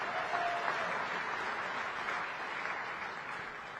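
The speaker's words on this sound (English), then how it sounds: "Please give the winners another round of applause." Steady, moderately distant audience applause at a formal summit ceremony honouring prize winners, a continuous wash of many hands clapping with no voices over it.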